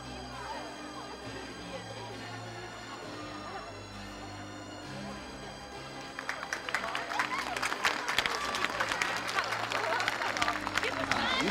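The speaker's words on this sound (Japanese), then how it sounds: "スタンドの皆さん、選手に盛大な拍手をお送りください。" A large stadium crowd at the J Youth Cup final, Yokohama Marinos versus Verdy Kawasaki, claps and cheers, the applause swelling noticeably halfway through into a dense, loud roar of many hands.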